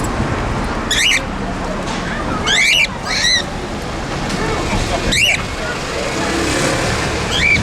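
Parrots, cockatoos and parakeets give several sharp, shrill calls in bursts beside a steady wash of passing traffic in the centre of Plymouth, near St Andrew's Church.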